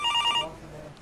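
A desk telephone rings with a bright electronic double-trill burst lasting about half a second, then stops, leaving quiet room tone.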